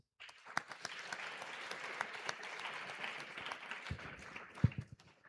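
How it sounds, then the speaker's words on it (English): A crowd applauds steadily at a moot court competition's closing ceremony, a dense wash of clapping that holds for several seconds before tapering off, heard from a moderate distance. "May we now have a warm round of applause to all our participants."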